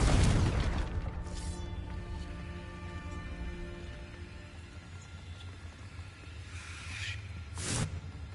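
Loud blast of the Confringo spell in a video game hits at the start and rumbles away, followed by quieter whooshing bursts near the end.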